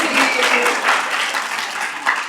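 An audience claps and cheers at a gathering on career and family planning, a dense, steady round of applause close by throughout.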